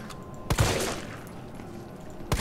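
Gunfire in the Resident Evil 3 video game: two sharp, close shots about two seconds apart, each followed by a short echoing decay, with no talking.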